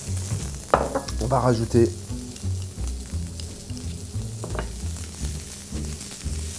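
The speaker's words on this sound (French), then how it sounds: "Là on va mettre nos échalotes dans la poêle." Shallots sizzle and fry in a pan with a steady crackle while being stirred, with a few scraping clatters near the start and a voice speaking briefly over the cooking.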